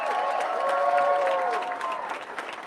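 A crowd applauds at a ceremony marking the reopening day of a Lewiston bowling alley, with steady, dense clapping of many hands and some indistinct voices mixed in, tapering off slightly at the end.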